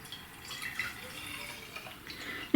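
Blonde roast cold brew iced coffee is poured from a refrigerated bottle into a glass: a faint, steady liquid trickle close by, ending in a brief louder splash.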